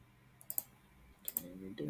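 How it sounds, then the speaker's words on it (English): Two separate sharp clicks from keys pressed on a computer keyboard, quiet and close, as the Enter key is struck while a command runs. "Let me click enter."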